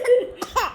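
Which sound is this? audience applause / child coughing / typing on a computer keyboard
child coughing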